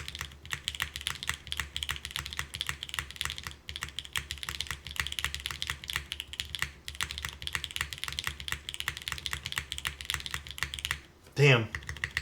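Custom-built mechanical TKL keyboard typed on continuously, a fast, even stream of crisp close keystrokes, briefly interrupted near the end by a short burst of voice.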